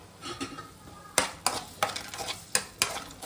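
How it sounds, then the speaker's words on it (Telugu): Chopped onion pieces sizzle in hot oil in a pan for a paneer masala, with a steady frying hiss broken by repeated sharp scrapes and clinks of a spoon stirring against the pan. "నూనె కాగంగానే నేను కట్ చేసి పెట్టుకున్న ఉల్లిపాయ ముక్కలు మనం వేయించుకోవాలి"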